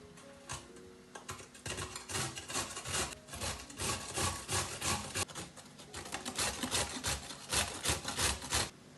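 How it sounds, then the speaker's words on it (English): A carrot is rubbed steadily against a grater for borscht, making a continuous rhythmic rasping scrape at close range, stroke after stroke with no pauses. "Rub carrot on a grater."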